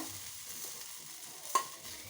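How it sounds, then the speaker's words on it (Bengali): Quiet, even sizzling of food pan-frying in a little oil under a lid, with one brief metallic clink partway through and no talking. "এরকম চাপা দিয়ে অল্প তেল দিয়ে ভেজে নিলে"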